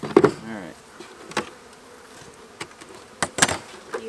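Honey bees buzz at the entrance of a Kentucky beehive, a steady busy hum broken by several sharp knocks and bumps near the microphone.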